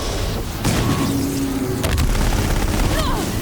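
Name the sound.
Deathbringer machine turret firing in video game Horizon Zero Dawn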